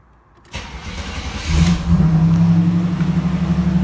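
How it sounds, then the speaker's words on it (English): A 1989 Pontiac Turbo Trans Am 20th Anniversary engine cold-starts with a loud crank near 0.5 s and catches around 1.5 s. It settles into a steady, close, rumbling idle, with no talking. "We're going to begin this morning with a cold start of my 89 Turbo Trans Am."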